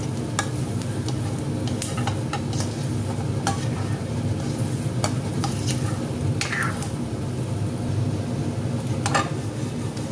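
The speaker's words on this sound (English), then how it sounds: "in just 1 teaspoon of oil, you can toss it" Veg manchurian balls sizzle and fry in a pan with just a teaspoon of oil, a steady close crackle with scraping stirs and tossing taps throughout, no talking.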